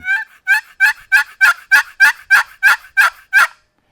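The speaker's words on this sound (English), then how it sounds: "a box call is great because you can really pick that thing up. Man, you can hit it and really stroke it" A wooden turkey box call stroked hard in a steady series of about ten loud, evenly spaced yelps, each a sharp raspy note with clear gaps between, ending abruptly with no talk.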